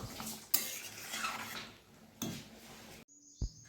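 Dishes and utensils being washed after cooking: metal pots and cutlery clatter and clank in bursts with running-water hiss between, a sharp clink at the start and another near the end, close and fairly quiet.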